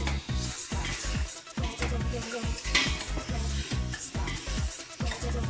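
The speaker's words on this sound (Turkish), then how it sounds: "güzelce hiç içerisine yağ ilave etmeden kendi suyuyla soteliyorum" Meat sizzles loudly in a hot pan without added oil, sautéing in its own juices while a utensil stirs and scrapes against it in quick, repeated strokes, close up and continuous.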